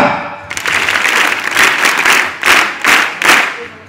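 A crowd of students applauds at a school sports day, loud and close, with sustained clapping that rises into several stronger rhythmic surges.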